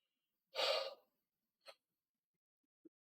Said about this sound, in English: Excuse me for the yawn.